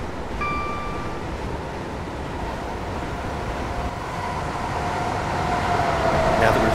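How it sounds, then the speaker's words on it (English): A train running at around 60 miles per hour in Train Simulator 2015, a steady dense rumble of wheels on track holding throughout, with a faint tonal whine rising toward the end. "Now that we've reached 60 miles per hour, I temporarily idled the power to allow the train to coast."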